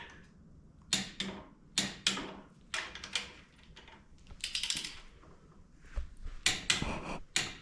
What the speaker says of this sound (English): I've got the torque wrench set at 60. Do the double click.